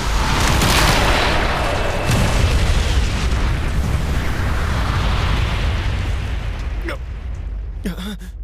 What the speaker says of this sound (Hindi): Wind blast!